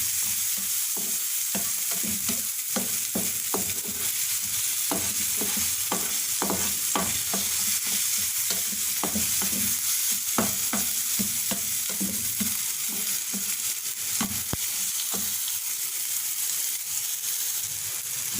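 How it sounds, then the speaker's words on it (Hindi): Potatoes being stirred and mixed in a frying pan for an Afghani omelette, with a steady sizzle and repeated scraping, clinking strokes of a spoon throughout, fairly close and continuous. "आलू भी अब इसमें मिक्स कर लेंगे।"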